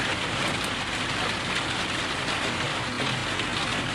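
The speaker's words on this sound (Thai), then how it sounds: "ฝนตกจ้า" Steady rain falling, a continuous broadband hiss of drops on surfaces that stays even and fairly loud throughout with no voices.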